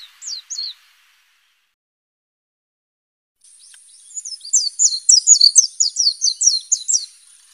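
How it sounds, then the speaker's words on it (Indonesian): An oriental white-eye sings in wild scrub. A couple of quick high chirps come first, then after a silent pause a rapid, bright run of trilled notes, clear and fairly close. "Burung pleci merupakan salah satu jenis burung kicau yang cukup populer meski memiliki tubuh yang kecil"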